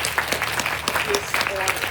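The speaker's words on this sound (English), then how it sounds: "let's give another round of applause for" Audience applause at a sea-themed keynote event: a short, dense burst of many hands clapping at once, steady and fairly loud all the way through, with no voices standing out.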